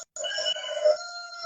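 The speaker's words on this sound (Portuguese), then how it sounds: "Ó, o galo cantando." A rooster crows once in a long, steady, fairly faint call after a short gap, heard from some distance without talk over it.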